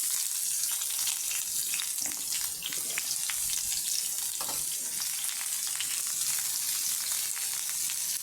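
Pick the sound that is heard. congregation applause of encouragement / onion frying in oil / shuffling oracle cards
onion frying in oil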